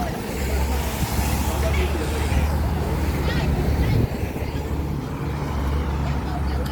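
A green minibus in Hong Kong street traffic during Typhoon Noul, signal 9: a steady low engine rumble and road noise with a faint air-brake hiss, under a wash of wind and distant voices.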